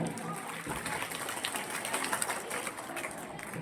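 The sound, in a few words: loud applause after a school drama performance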